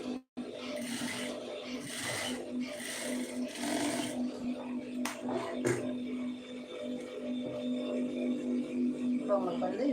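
Sewing machine stitching a neck design on a garment, a steady close mechanical hum with a rhythmic stitching rattle running throughout. A person talks over it in places.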